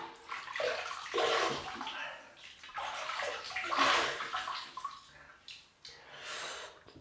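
Water splashes and sloshes close by as a face is rinsed with handfuls of water during a wet shave, in irregular bursts with short pauses and a breathy snort between them.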